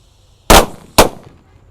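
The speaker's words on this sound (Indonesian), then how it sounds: "Selanjutnya kita nyalakan mercon keraraja" Four keraraja firecrackers lit together go off as two sharp, loud bangs about half a second apart, each ending in a quick fading crackle against an otherwise quiet outdoor background.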